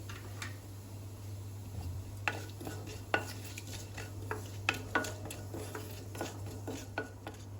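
Cumin and a pinch of asafoetida are stirred in hot oil in a pan for masala arbi, with soft scrapes and light clinks of the spoon over a quiet, steady sizzle and a low background hum.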